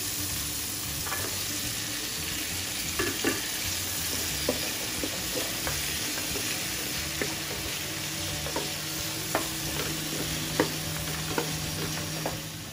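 Boiled beef for kaldereta sizzles and fries steadily in a pan, with scattered clinks and scrapes as it is stirred, up close and continuous with no voices.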